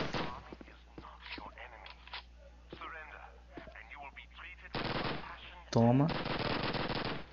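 Gunfire in the original Call of Duty, loud bursts of automatic fire late in the sequence after a stretch of someone talking quietly.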